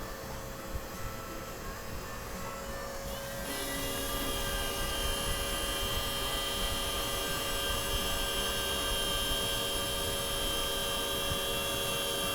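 A repaired faulty fuel distributor from a Mercedes W124 300CE-24 runs on a test bench. It gives a continuous mechanical whine and hum that steps up louder after a few seconds and then holds steady, with no talking.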